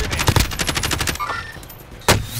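Rapid machine-gun bursts in the Warzone video game, a quick run of loud shots that fades, then one more sharp shot near the end.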